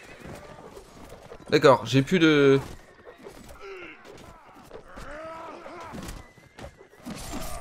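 A horse in the Mount and Blade Warband video game gives a loud, shaky neigh with a short follow-up whinny. Battle noise runs around it, and someone speaks before and after.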